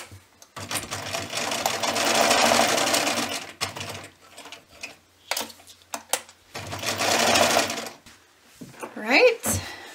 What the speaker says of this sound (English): I'm going to sew from here all the way around to here, leaving this piece open here so that I can turn my tea wallet right side up